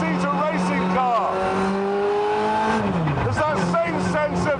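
A Radical SR3 racing car's engine screams up through its revs toward 11,000 RPM, loud and close, the pitch climbing and dropping between gear changes while someone talks over it.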